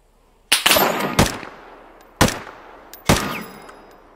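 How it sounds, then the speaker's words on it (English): Gunfire in the video game Deadside cracks out as four sharp, close shots in an uneven rhythm, with brief reverberant tails between them. "Oh, now they're shooting at me."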